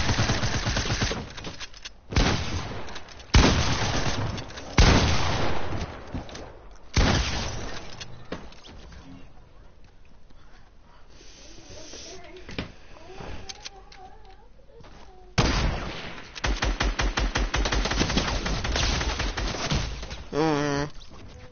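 Video game gunfire crackles in bursts of rapid shots, loud and close, with quieter stretches between volleys and a voice talking over part of the exchange.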